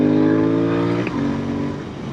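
A Royal Enfield Continental GT 650 motorcycle revs hard and loud up toward its rev limiter, a steady rising engine drone broken by a brief dip near the middle, then pulling on.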